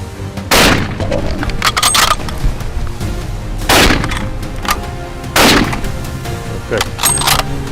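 Rifle shots ring out during an African baboon hunt in Mulanje: three loud, sharp cracks spaced a couple of seconds apart, each with a booming tail, over a steady outdoor background with scattered smaller clicks.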